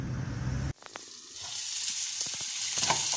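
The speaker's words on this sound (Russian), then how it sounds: "На ужин у нас будет картошка жареная" Potatoes fry with garlic in a home kitchen pan, a steady close sizzle that begins after a sudden drop in background noise, with faint clinks of stirring and no speech.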